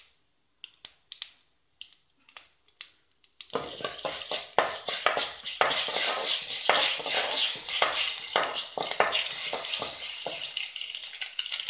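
Mustard seeds and urad dal hit hot oil for a Mangalorean-style veg thali tempering. A few isolated crackles and pops come first, then a sudden loud, dense sizzle with sharp spattering that keeps going steadily.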